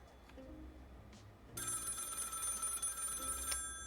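Telephone ringing in the game Lil' Guardsman: a loud, shrill electronic trill starts suddenly after a quiet stretch and holds steadily for about two seconds before cutting off.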